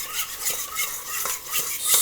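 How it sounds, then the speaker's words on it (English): Rhythmic scraping and swishing as white school glue and drops of food coloring are stirred together for slime, a steady back-and-forth utensil motion close up. "stir your glue and your food coloring"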